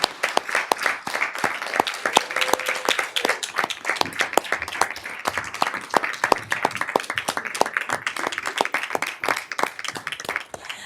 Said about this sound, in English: please stand and let us give you a great big round of applause